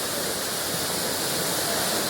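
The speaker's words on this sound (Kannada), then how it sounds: "ನೋಡಿ ಗೈಸ್, ಇಲ್ಲಿ ಇರೋಂಥ ಫಾಲ್ಸ್ ಅದು ನಾವು ಇವಾಗ ಬಂದಿರೋಂಥ ಫಾಲ್ಸು" A waterfall, running low on water in the off season, gives a steady, dense broadband roar of falling water, close and loud and unbroken throughout, with no voices.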